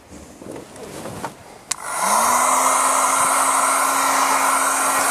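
A hair dryer switches on with a click and then blows steadily and close, drying fresh dye on a car steering wheel during a DIY restoration, after a few quiet handling sounds.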